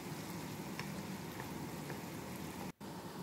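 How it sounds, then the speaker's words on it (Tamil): Cumin seeds sautéing in a pan, stirred with a ladle, giving a steady, soft, close hiss of sizzling with faint scattered pops and a brief dropout near the end. "கரண்டியால் வதக்கி எடுத்து கொண்டிருக்கிறார்."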